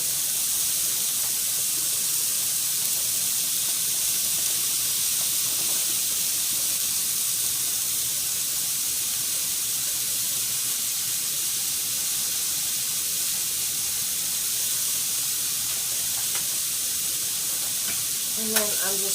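Chopped onions frying in a hot pan make a steady, even sizzle and hiss that continues throughout, with a few faint clinks near the end.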